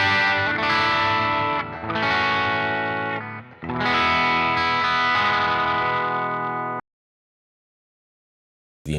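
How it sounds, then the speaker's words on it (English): Clean electric guitar played through a UAFX Dream 65 amp pedal, with sustained chords and ringing notes that fade out, then a sharp cutoff and a brief return at the end. No one speaks. "this is my clean sound just through the UAFX Dream 65."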